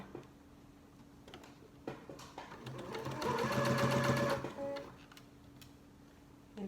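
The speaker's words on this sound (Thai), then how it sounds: "เดี๋ยวเราจะมาเย็บขอบ อด้านในกันก่อนนะคะ ก็ เย็บเลย ค่อยเย็บนะคะ" A sewing machine stitches the inner edge of a handbag in one short burst of rapid mechanical clatter. The burst swells, then stops, with quiet ticking before and after.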